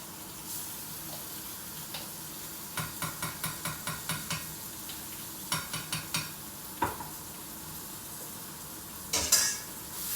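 Salsa verde cooking in a pan alongside roasted eggplant and okra: a spoon scrapes and taps in short bursts over a faint, steady sizzle, close and moderately loud.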